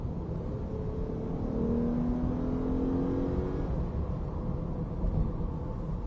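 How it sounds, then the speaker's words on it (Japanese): A Lexus IS250 automatic accelerates hard as it kicks down from sixth to fourth gear, engine note rising steadily and fairly loud over road noise inside the cabin, with no talking. "ちょうど6速で走っていたのがパッとアクセル踏むと敏感に4速に落ちて、 グッとトルクの出る回転域にタコメーターの針が飛び込んでいきます。"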